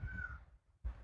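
A crow caws once, a rising-falling call close by, followed after a short pause by another brief sound, with no talk.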